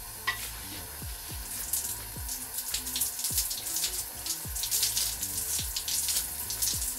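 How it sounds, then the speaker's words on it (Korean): Tap water runs steadily and splashes while a hair treatment is rinsed out of hair, a close, continuous hiss with scattered drips and sloshes and no voices. "그래서 저도 3초만 사용하고 헹궈내도록 할게요"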